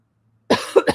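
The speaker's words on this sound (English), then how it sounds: "Let me clear my throat." A brief, close throat clearing follows a moment of silence, with two or three quick rough bursts.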